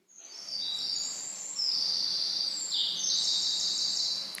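A second rendition of one bird's song repeats nearly the same phrase of high, sweet warbling notes for about four seconds, close and clear over a quiet background hiss, with no talking.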